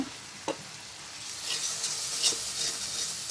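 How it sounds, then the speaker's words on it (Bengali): Turmeric, salt and chili powder sizzle steadily in hot oil in a pan while being stirred, a continuous close frying hiss with a few scraping strokes and no talk. "এবার আমি মশলাটা ভালোভাবে কষাবো"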